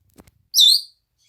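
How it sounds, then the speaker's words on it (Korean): A pet bird gives a single bright, high chirp, close and clear, after a couple of faint soft sounds. "짹짹거리지 말고 말을 해봐"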